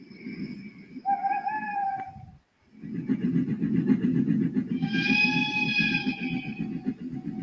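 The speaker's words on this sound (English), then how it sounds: "That's the engine's whistle." A steam engine whistle sounds in sustained harmonic blasts, one short and one longer, over a steady low rumble of a moving train.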